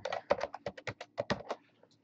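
Quick bursts of keystrokes on a computer keyboard as a password is typed, about a dozen close, crisp taps in an uneven run with short pauses, no voices.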